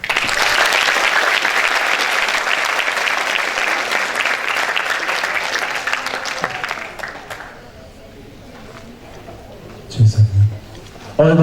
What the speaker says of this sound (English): once again, please give applause to Mr. Mark.